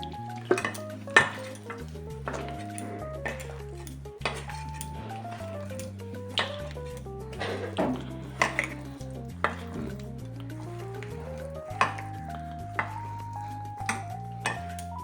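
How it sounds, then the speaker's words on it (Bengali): Chilla batter with green chilli being mixed in a bowl, a spoon clinking and scraping against the sides in quick irregular taps over steady background music. "এবার আমি এটা একসাথে মিক্সড করে নেব"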